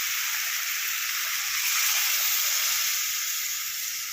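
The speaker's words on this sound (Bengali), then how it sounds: "পরিমাণ মতো জল দিয়ে দিলাম।" Water poured into a hot pan of shrimp and ash gourd greens makes a steady, bright hiss and sizzle that swells slightly midway, close and continuous with no talking.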